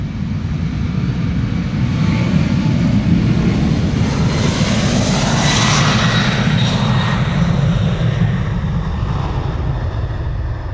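Powerful jet airliner engines roar continuously on takeoff at Amsterdam Schiphol Airport, with a deep rumble and a rising, whining hiss, loud and sustained without a break.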